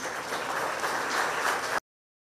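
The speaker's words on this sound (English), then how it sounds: "Big round of applause, please." Audience applause at a formal ceremony, a dense steady burst of clapping for under two seconds that cuts off abruptly.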